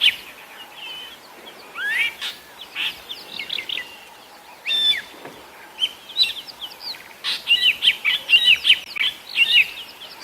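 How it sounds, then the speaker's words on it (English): A fork-tailed drongo mobbing raptors at sunset on safari gives a burst of sharp, scratchy alarm calls and chirps, close and insistent, coming in irregular clusters that intensify toward the end. "this fork-tailed drongo. It is so upset that there are raptors here, and it is giving them quite a rev at the moment. Listen to the calls it's making."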